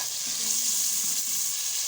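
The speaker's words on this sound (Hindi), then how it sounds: "ये देखिए आलू डाल रहे हैं।" Raw potatoes sizzle steadily in hot oil while a curry is being prepared, a dense, even crackling hiss that holds close and constant throughout with no voices.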